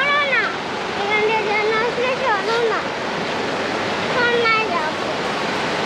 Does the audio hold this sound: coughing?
no